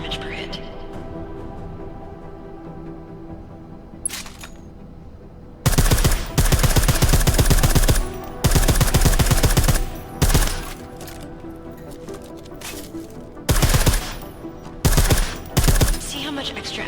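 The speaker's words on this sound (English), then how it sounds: "I like how silencers reduce sound, but the trade-off is less stopping power" Bursts of suppressed automatic gunfire in Deus Ex Mankind Divided, several loud clusters over steady game ambience with a brief quiet gap between volleys.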